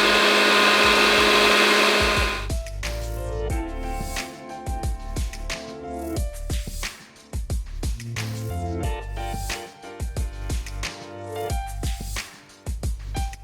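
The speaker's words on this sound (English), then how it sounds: "Blend for 3 to 4 minutes" A blender whirs through a cashew cream sauce with lemon juice and plant-based milk, a loud grinding roar at the start that settles into a lower whine pulsing and dipping as the thick mixture churns.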